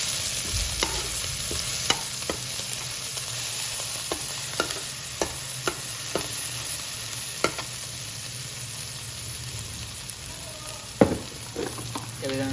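Garlic, ginger and chilli frying in hot ghee give a steady close sizzle, with a spoon scraping and clacking against the pan every second or so and one louder knock near the end.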